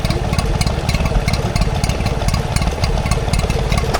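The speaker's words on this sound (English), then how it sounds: "Here's a Stewart P4 two-stroke engine." A Stewart P4 two-stroke stationary engine runs at an outdoor tractor festival, with a steady, rapid, loud chugging beat close by and no talk.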